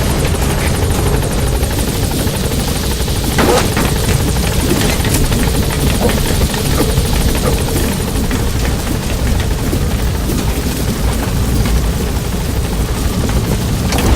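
A helicopter in the Metal Gear Solid V video game, its rotor chop and turbine roar loud and continuous for the whole stretch, dense and close with no pauses.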